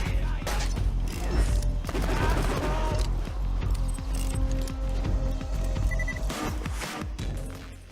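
Rapid bursts of gunfire from weapons in Borderlands 2 crack out repeatedly, dense volleys mixed with mechanical clicks and game effects, loud and close throughout.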